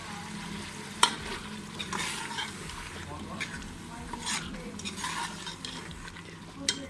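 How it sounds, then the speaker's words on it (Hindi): Lamb (dumba) karahi masala being roasted in a pan: a spoon scrapes and stirs against metal over a soft, continuous sizzle, with occasional sharp clinks, close and moderately loud. "अब हम इसकी बुनाई करेंगे 2 से 3 मिनट के लिए"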